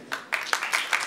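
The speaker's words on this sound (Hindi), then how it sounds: "जोरदार ताली आपके लिए" Audience applause at a film song's first-look launch event with a band, a brief loud patch of clapping with uneven peaks.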